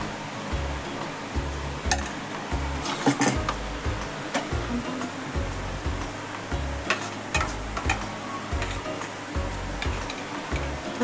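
Uttapam batter sizzles on a hot pan in a home kitchen, a steady, soft frying hiss broken by periodic low thumps and scraping stirs, close by and without talk.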